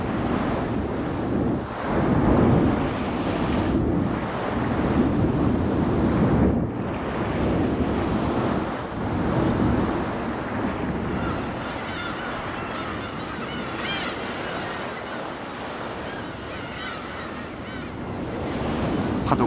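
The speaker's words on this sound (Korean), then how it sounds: "바람이 일어나면 어김없이 파도가 높아진다" High waves crash and surge against Dokdo island while strong wind blows. A continuous roar of surf with rhythmic swells and constant wind rumble runs throughout. There is no speech.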